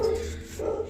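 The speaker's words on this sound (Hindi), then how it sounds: "और देखिए हमारे यहाँ कुत्ते कितने भौंक रहे हैं।" Dogs near a roadside house let out a brief bark or two, moderately loud and fairly close, with no talking.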